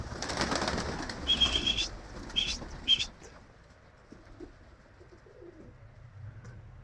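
Pigeons flutter and call briefly at the start, with a few high chirps, then the scene fades to quiet background ambience.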